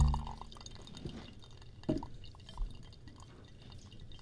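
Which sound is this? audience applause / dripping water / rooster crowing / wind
dripping water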